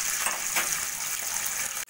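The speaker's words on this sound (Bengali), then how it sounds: "সেই দু পিস একটু বেশি কড়া করে ভাজবো" Pieces of hilsa fish frying in oil, a loud, steady crackling sizzle close by that cuts off abruptly at the end, with no voices.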